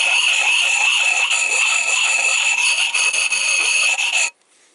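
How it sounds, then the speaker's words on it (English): A metal file scrapes across an axe blade to clear burrs, a close, bright, continuous grinding rasp lasting about four seconds before cutting off abruptly. "you're going to have to start with a file first and fix the burrs with a file"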